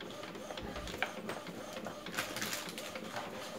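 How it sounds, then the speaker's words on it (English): A photo printer prints a picture, giving soft, quiet mechanical whirring with irregular clicks and feed ticks, close by and faint. "the printer then prints."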